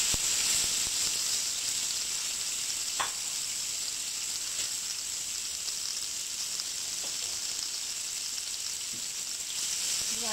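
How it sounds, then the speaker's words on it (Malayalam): Sliced onions sauté in the oil left over from frying fish, making a dense, continuous sizzle that stays loud and even throughout, with a few faint clicks of stirring and no voices. "ഇനി ഇതേ എണ്ണയിലാണ് നമ്മൾ സവാള വഴറ്റിയെടുക്കുന്നത്"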